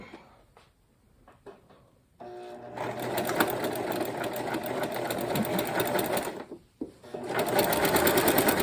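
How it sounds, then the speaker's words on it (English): A sewing machine stitches along a fabric edge with the presser foot down, running in a steady close whir for several seconds, with a brief stop before it starts again. "I'm putting my presser foot down and going to stitch all along the edge, the whole width of my presser foot."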